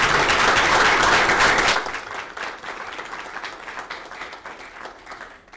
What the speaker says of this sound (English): if we could all share a round of applause